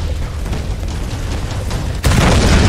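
Explosions in the Tomb Raider video game roar as a continuous loud rumbling barrage, with a sudden heavier blast surging in near the end.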